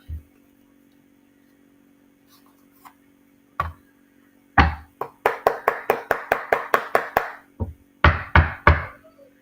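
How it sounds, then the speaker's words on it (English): Knuckles rap on wood in scattered single knocks, then a quick run of about ten evenly spaced raps followed by a few more heavy knocks, close and sharp with no talking. "when we knock on wood and you hear a certain sound like that"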